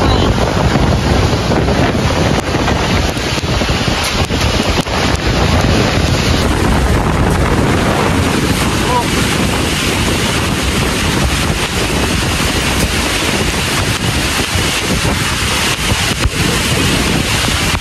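Very strong storm wind roars over Lake Sebu, South Cotabato, a loud, steady broadband rush with buffeting gusts on the microphone throughout, and no voices.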